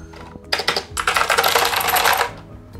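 Typing on a Dareu EK815S mechanical keyboard: a few separate clacks, then a quick, steady burst of close, crisp key presses that stops abruptly.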